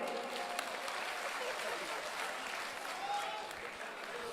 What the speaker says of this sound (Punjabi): ਦੁਬਾਰੇ ਜ਼ੋਰ ਨਾਲ ਤਾੜੀ ਮਾਰੋ